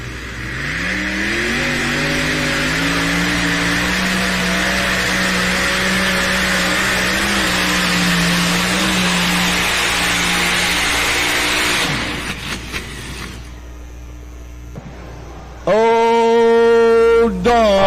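A 7,500-pound modified pulling tractor at a tractor pull: a loud, sustained engine roar for about twelve seconds that then cuts out, followed by a brief quieter stretch and a sharp renewed rev at the end.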